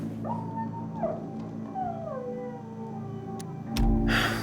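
A dog in the video game Dying Light 2: Stay Human gives several high, sliding whimpers and yelps, moderately close over a low ambient game hum, ending in a louder burst of noise.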